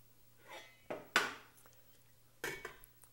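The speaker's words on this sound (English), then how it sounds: "I'm going to partially cover the pan" A metal lid clanks onto a pan of simmering garlic soup, a few short, close knocks and scrapes with a pause between them, with no talking.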